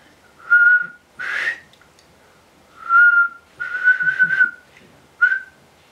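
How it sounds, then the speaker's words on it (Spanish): A person whistles several separate notes, some held and some wavering, with silent gaps between them, clear and close in a quiet room. "No sé silbar."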